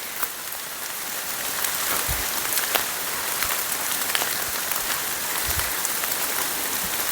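Steady rain patters on a surface throughout, dense and even, with occasional heavier drops landing close by.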